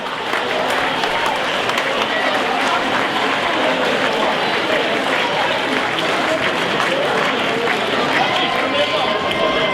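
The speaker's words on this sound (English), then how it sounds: "Give them a round of applause." Loud, steady applause fills a football club presentation night for Spennymoor Town's top scorers, a dense unbroken roar of clapping from a large crowd that lasts throughout.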